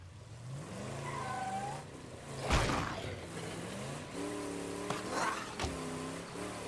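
A car engine hums steadily in a survival game, with pitch rising and falling as it drives, broken by a couple of sharp thuds or impacts.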